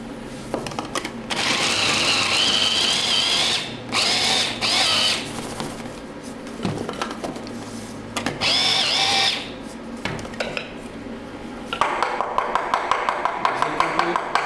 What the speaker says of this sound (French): Donc noisette, parmesan. Je vais déjà mixer un coup.